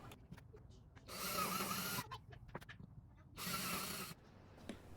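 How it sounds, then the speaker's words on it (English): A Kreg jig bit drills shallow countersink holes into wood for a rustic end table: two separate bursts of steady whirring, each about a second long, with quiet handling noises between them. "I'm going to put some countersink holes here using just the tip of the Craig jig bit"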